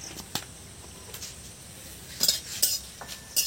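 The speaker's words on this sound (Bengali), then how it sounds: "পুরা কড়ার মধ্যে এই শুকনো লঙ্কা আমি দিয়ে দিচ্ছি।" Dry red chillies tossed into a kadai and stirred, with scattered metallic clinks and scrapes of a spoon against the pan and a faint background hiss.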